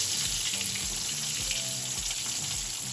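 Country fried steak sizzles steadily in a pan right after being flipped, a continuous close frying hiss with low clatter and bumps running through the whole stretch.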